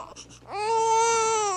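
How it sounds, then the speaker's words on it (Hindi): A short vocal bit, then an infant lets out a loud, sustained wail that holds steady and piercing until the end, in an Arunachalee Hindi film scene. "ये किसी बच्चे की आवाज है"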